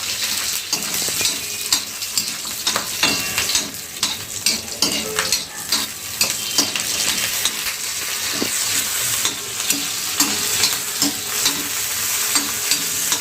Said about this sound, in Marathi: मिरची आणि लसूण जे आहे ते तेलामध्ये असा सोडायचा आहे आपण चांगला असं फ्राय करून घेऊया